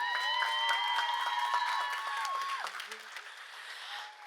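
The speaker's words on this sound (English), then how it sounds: "give them a round of applause" Applause from the audience at the SUNY Schenectady 2025 commencement ceremony as graduates clap for their supporters: a dense, steady patter of many hands with a few brighter tones above it, fading slightly toward the end.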